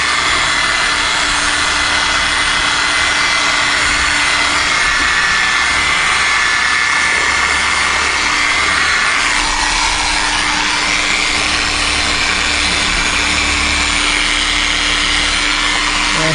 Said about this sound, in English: Just lightly polishing it, allowing the machine to do the work, not really squeezing it on.